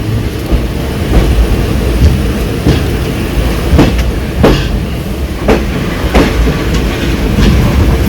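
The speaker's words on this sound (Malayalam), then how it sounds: "ഇതൊരു ആക്സിഡൻറ്റ് റിലീഫ് ട്രെയിൻ ആണ് കേട്ടോ" An accident relief train hauled by a locomotive passes near Shoranur Junction. A loud, close, continuous rumble carries rhythmic clickety-clack wheel beats at regular intervals throughout.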